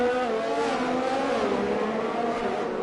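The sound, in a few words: F1 cars revving out of the pit lane in F1 video game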